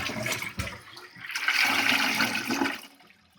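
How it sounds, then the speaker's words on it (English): A toilet flushes in a single close, loud rush of swirling water that swells and then drains away, with no voices over it. "Let's take another flush."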